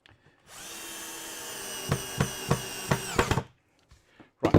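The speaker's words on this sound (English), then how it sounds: "you can hear the drill just going, that's pulling it tight" A power drill spins up and runs steadily while driving a fastener that pulls a timber cart joint tight, with rhythmic knocking thuds as the screw bites, then stops abruptly, followed by a brief clatter.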